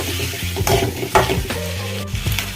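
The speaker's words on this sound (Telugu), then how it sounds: "ఇదిగోండి ఎగ్స్ అయితే వేగిపోయాయి" Boiled eggs fry in a pan with salt and turmeric, sizzling steadily while a spoon scrapes and stirs in short strokes, close up with no voices.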